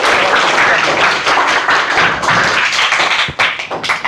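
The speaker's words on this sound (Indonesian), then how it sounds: "boleh beri aplaus untuk kelompoknya Mita" An audience in a classroom session claps for a presenting discussion group, giving a short burst of dense, close, fairly loud applause that thins out toward the end.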